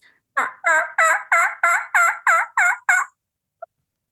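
A person imitates a turkey hen's yelp, eight evenly spaced raspy notes in a steady run, close and loud, followed by one faint click.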